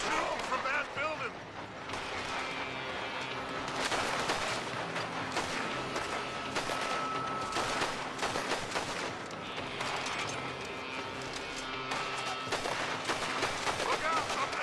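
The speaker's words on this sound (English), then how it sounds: "They're shooting from that building!" Repeated gunfire rings out from a building in the Western video game Red Dead Redemption 2, with dense volleys of loud shots and echoing cracks under intermittent shouting voices.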